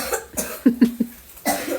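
A few quick, dry coughs in a row, close and fairly loud, followed by a short breathy sound.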